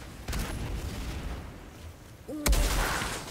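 Shotgun blasts in the shooter Outriders, a booming shot early and a heavier, louder one near the end, over a low background rumble.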